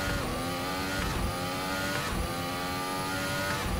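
A V6 racing car engine in Assetto Corsa drones steadily with layered harmonics, shifting pitch slightly as it runs, loud and continuous with no voices.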